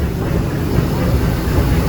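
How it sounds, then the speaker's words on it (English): Disneyland Railroad steam train pulling into New Orleans Square Station on the park's rails, a loud, continuous heavy rumble from close by with no clear talking. "please remain seated until the train comes to a complete stop"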